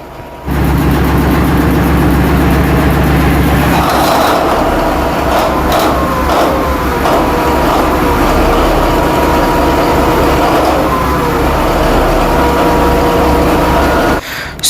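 A car engine with a new starter motor cranks briefly, then catches and runs steadily, with a loud continuous rumble and a few small revs before shutting off near the end.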